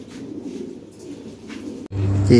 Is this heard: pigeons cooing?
yes